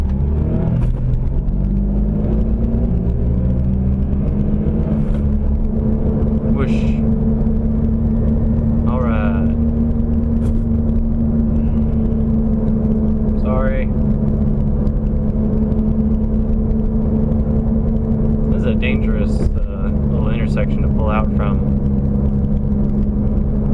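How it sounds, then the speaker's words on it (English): A car rumbles steadily close by, its engine noise continuous throughout with a low drone, while a voice talks intermittently over it, likely from inside a vehicle during a drive. "Oh shit, there's a car."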